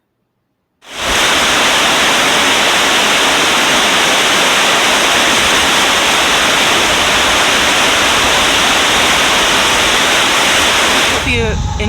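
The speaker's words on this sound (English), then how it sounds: "Let's take a moment to listen to the Potomac." The Potomac River at Harpers Ferry, West Virginia, rushes in a steady, loud, unbroken wash of flowing water that starts abruptly and holds constant throughout.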